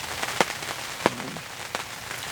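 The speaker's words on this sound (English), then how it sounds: "Not sure what they're going to do with all this rain" Steady rain falling outdoors over a field on a wet spring day, a soft continuous hiss with a few sharper drips or taps standing out, no voices.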